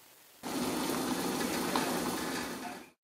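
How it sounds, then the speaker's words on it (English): A pot of water boils vigorously, a dense, loud, steady bubbling hiss that starts abruptly, holds for about two and a half seconds, then cuts off. "You can feel the power and danger in a boiling pot of water."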